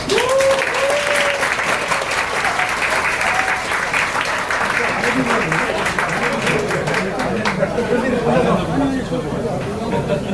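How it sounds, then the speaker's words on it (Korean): Crowd applause at a party for students admitted early to a military academy, a dense wash of clapping mixed with chatter and some talking voices, plus a brief tonal sound near the start, fading somewhat toward the end. "이번에 합격한 여러분 스스로를 위해서 자 박수 한 번 합시다"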